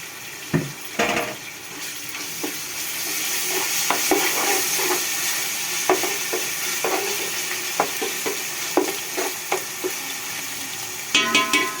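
Ginger garlic paste fries with onions and tomato in a pan, giving a close, moderate sizzle with intermittent clacks and scrapes from stirring. A brief burst of running water comes near the end, and no one talks.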